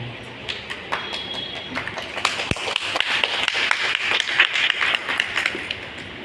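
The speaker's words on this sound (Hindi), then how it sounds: "तालियां तो बजा दी" Scattered audience clapping at a Hindi talk on children's values, uneven taps building into a moderate burst of applause that stays fairly close and fills the room briefly.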